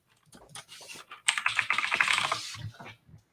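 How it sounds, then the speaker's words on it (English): Fast bursts of clicking keystrokes on a computer keyboard, starting sparse and then turning into a dense rapid run of typing, close and fairly clear. "I'm really fast at typing"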